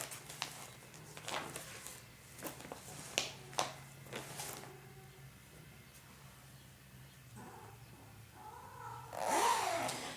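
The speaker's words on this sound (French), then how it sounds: "Si vous entendez miauler" A cat in heat meows near the end, a rising and falling cry after several seconds of quiet handling noises and light taps.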